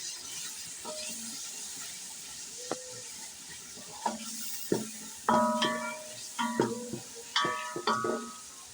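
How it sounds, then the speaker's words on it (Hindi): Whole green chillies dropped into masala frying in a pan for a potato and half-boiled egg curry, giving bursts of crackling sizzle that grow louder and busier toward the end, with stirring and no talk. "अब ये हरी मिर्च डाल देंगे हम साबुत।"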